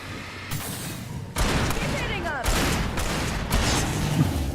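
Video game gunfire from Alan Wake, bursts of rapid shots and booming blasts crowding the clip loudly and up close, with a voice speaking underneath.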